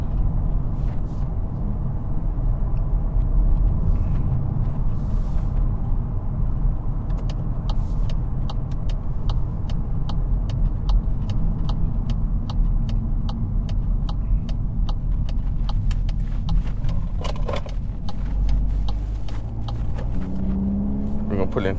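2022 Volkswagen Golf R MK8 with DSG gearbox on the road, a steady low engine rumble and road noise from inside the cabin, with clicks and a voice talking over it.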